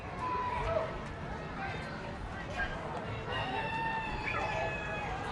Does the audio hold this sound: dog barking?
no